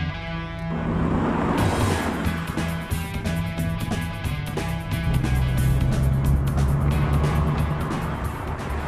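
A DeLorean with a 2.8-litre V6 engine drives past with a loud, throaty engine roar and rising revs, close by, with a steady whoosh of road noise.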